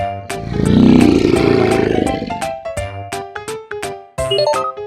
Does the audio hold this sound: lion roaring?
yes